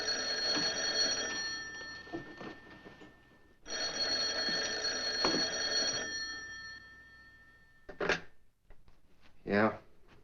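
A telephone rings in long repeated bursts, a bright sustained bell tone broken by short pauses, with voices speaking briefly near the end.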